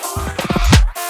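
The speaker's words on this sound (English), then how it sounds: "we have a bar of kind of washed out vocals, accompanied by my stretch vocal and some white noise" Washed-out vocals with a stretched, smeared vocal line over white noise; a short, loud burst of pitched vocal sounds sweeps upward and then cuts off.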